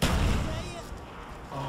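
Gunfire in Call of Duty Black Ops, a heavy booming shot at the start decaying into rumble, with another burst near the end and a voice speaking over it.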